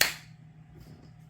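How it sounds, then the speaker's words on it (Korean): A wooden clapper tool struck once, a sharp crisp clap at the start that fades quickly into a quiet room. "그 도구를 박수 소리를 가끔 칠 테니까 들어보세요."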